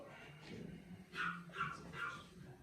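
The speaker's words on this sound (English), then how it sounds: "Puppy." A puppy giving three short, high yips and whimpers in quick succession, fairly close but soft, over quiet background murmur.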